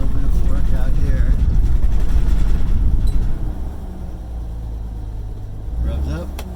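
The engine of a 1972 Toyota Land Cruiser FJ55 revs hard and loud, close by, for about three seconds, then drops back to a lower, rougher idle with a brief blip near the end.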